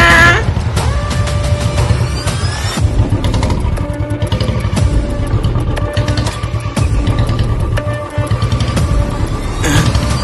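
A motorcycle carrying a rider and an elderly passenger runs loud and close, its engine throbbing steadily with scattered clatter and thumps throughout.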